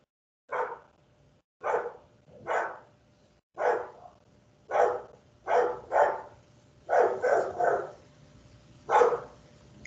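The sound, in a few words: dogs barking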